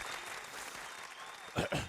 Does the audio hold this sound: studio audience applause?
yes